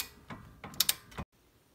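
Wrench ratchet clicking while tightening a control arm bolt on a Ford Mustang, a few short close metallic clicks bunched together before it stops abruptly.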